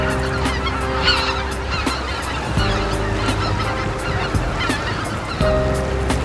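Cranes call from a river sandbar in a wintering flock, many honking cries overlapping against a steady low drone, dense and continuous throughout with no speech.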